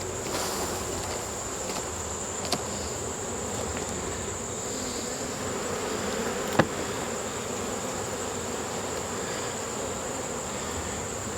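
A dense swarm of honeybees clustered under a beehive's screened bottom board drones in a steady, continuous buzz, close and even throughout, with a couple of faint knocks and no voices.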